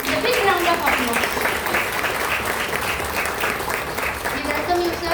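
Audience applause welcoming a guest at a college faculty development programme, a steady dense clapping from a crowd sustained for about five seconds with some voices mixed in.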